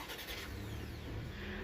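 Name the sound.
Toyota Rush GR Sport engine starting with push button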